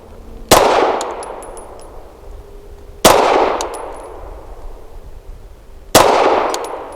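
Three sharp metallic clangs ring out about every two and a half seconds as Canik TTI pistol rounds strike a swinging steel target, each impact decaying slowly with a bright ringing tail; a distant shot or two sounds faintly between hits.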